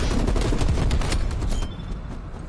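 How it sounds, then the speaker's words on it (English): Dense, continuous bursts of automatic gunfire from the Black Ops Cold War beta, rapid overlapping shots filling the whole stretch, slightly thinning toward the end. "All I know is that the bullets were flying right past me."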